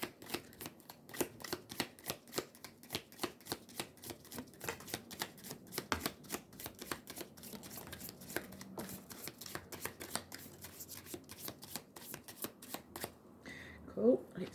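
Large cards from a tea leaf fortune deck are shuffled and handled up close. A steady flurry of soft, rapid riffles and flicks runs throughout, with a voice talking quietly now and then.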